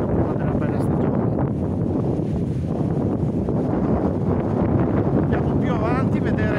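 Strong, cold Bora wind buffets the microphone in a steady, loud roar with gusty rumbling throughout, near and unbroken, with brief faint voices mixed in toward the end.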